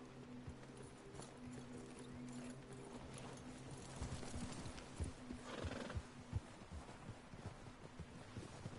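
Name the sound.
horse hooves clip-clopping in a video game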